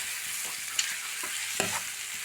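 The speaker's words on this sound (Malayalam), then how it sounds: "ഇപ്പോൾ നമ്മൾ വെച്ച ബോട്ടി നന്നായിട്ട് ഫ്രൈ ആയി തുടങ്ങി" Tripe pieces coated in garam masala fry in a pan with a steady dense sizzle, broken by a few sharp clicks and scrapes of a spoon stirring, close up and with no voices.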